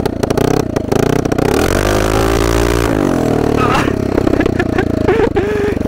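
The electric motor of a mini Bentley ride-on toy car strains under load, giving a loud, rough whine with clatter and scraping, rising and falling in pitch as it drives.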